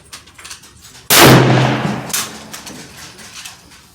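A single loud .308 rifle shot from a Savage Axis cracks sharply and then rolls off in a decaying echo over a few seconds.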